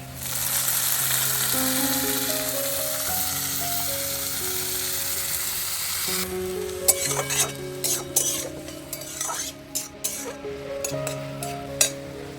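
Chopped vegetables with their released water added to a hot pan of reddish-fried ingredients; a steady loud sizzle gives way to frying with repeated clinks and scrapes of a utensil stirring against the pan.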